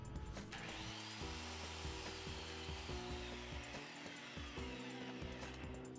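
A power saw cuts 3/4 by 1½ inch wood at a 30-degree angle, a loud continuous whine and grinding rasp running throughout with rhythmic pulsing.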